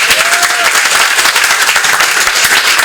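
A crowd at a campaign fundraiser for Eric Adams's mayoral run breaks into loud, dense applause that holds evenly and close for a few seconds, with no voices over it.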